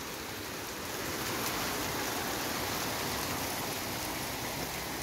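Heavy rain pours steadily during a typhoon, a dense, even hiss of drops hitting surfaces close by, unbroken throughout and with no voices.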